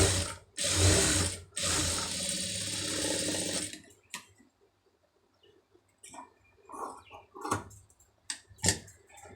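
A sewing machine stitches a hook strip in rapid mechanical bursts, a loud run of fast needle clatter at first, then quieter scattered clicks and short stops.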